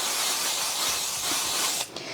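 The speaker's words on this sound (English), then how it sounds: "I'm just going to spray this basting spray just to hold it down" Basting adhesive spray hisses steadily from an aerosol can onto fabric for embroidery, one continuous close burst lasting about two seconds before it stops.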